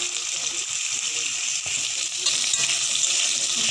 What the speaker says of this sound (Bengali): এবার আমি আলুটা ভাজার জন্য দিয়ে দিচ্ছি।